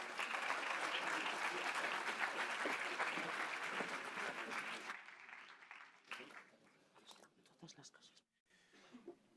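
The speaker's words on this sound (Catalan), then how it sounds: "Un aplaudiment per ells, sisplau." Applause from the audience at a professional awards and diploma ceremony, full and loud for about five seconds, then thinning to scattered claps with voices in the hall.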